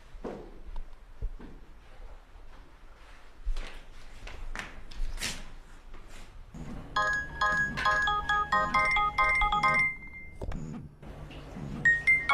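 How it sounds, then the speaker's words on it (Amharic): In an old Amharic movie scene, a telephone rings indoors. A melodic electronic ring starts midway and repeats in quick tonal bursts, after a few soft bumps and footsteps. "ስልክ እየጠራ ነው፣ አይሰማህም?"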